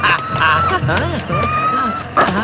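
Loud, close goose honking in repeated harsh bursts, with a voice talking over it.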